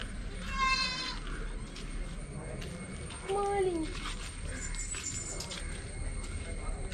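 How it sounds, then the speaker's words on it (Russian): Goats on a family estate in rural India bleat twice, a short cry and then a longer wavering one a few seconds later, moderately close, while people talk over them. "И еще мы здесь козлика нашли."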